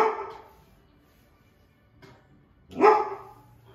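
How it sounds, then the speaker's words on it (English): A dog barks indoors: a burst of barking at the start, a faint yip around two seconds, then one loud, close bark near the end, with no talk over it. "He's just barking because he thinks someone is outside."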